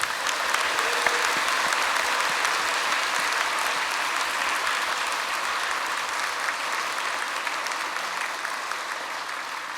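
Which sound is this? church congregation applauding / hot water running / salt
church congregation applauding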